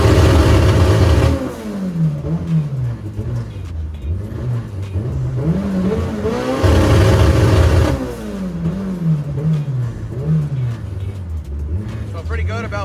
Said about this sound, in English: I'm gonna go ahead and try to hit the two-step